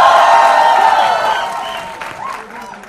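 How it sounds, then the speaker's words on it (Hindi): An audience at a Bollywood film trailer launch claps in a loud, dense burst that gradually fades away over a few seconds, with a clear voice speaking over the tail. "इसके लिए ताली बजा दो एक बार यार"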